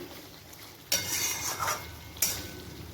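Ghee goes into a pan of boiled potatoes for a Bengali aloo dum, followed by stirring: two bursts of scraping and soft sizzling against quiet kitchen background.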